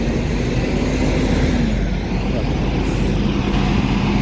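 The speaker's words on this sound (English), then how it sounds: "moving trucks are loud" A heavy moving truck rumbles past with a deep, steady engine roar and broad road noise, loud and close throughout.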